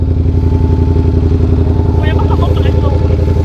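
A Ducati V4 S motorcycle engine idles close by with a steady, throbbing exhaust rumble while a person speaks briefly over it.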